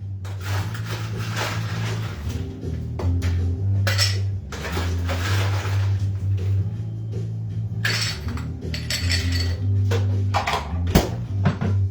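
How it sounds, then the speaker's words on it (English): Ice cubes dropped into a cocktail glass during drink making at home, a series of clinking and rattling knocks in bursts over a low steady hum, close by, with no talking. "Throw a little ice."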